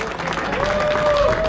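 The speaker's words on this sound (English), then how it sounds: "Let's clap it up" A crowd gathered at a mural tour claps together in a short burst of dense applause, fairly loud and close, with some voices mixed in over the clapping.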